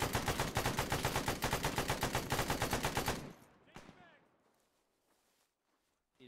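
Rapid automatic gunfire in the ArmA III video game, firing from above, a loud steady stream of shots for about three seconds, then a few trailing echoes and near silence.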